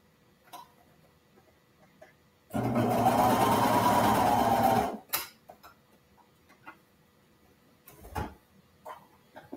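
A sewing machine stitches through the layers of a fleece wearable blanket in one steady burst of about two seconds, with quiet clicks and handling noises before and after.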